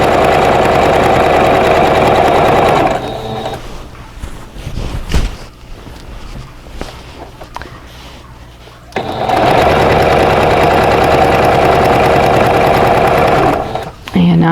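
A sewing machine stitching binding onto a quilt, a loud close motor whir running steadily, pausing for several seconds of quieter handling, then resuming before a final stop; a voice speaks in the gap.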